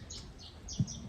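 Small birds chirp by a landscaped pool in Tenerife, a few short high tweets spaced across a quiet outdoor background with one brief low knock.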